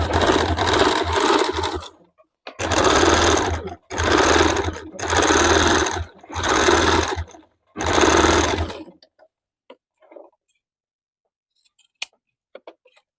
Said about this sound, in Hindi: अभी इस प्रकार से पाइपिंग को बाहर की तरफ निकाल के गोलाई से एक और सिलाई चला देंगे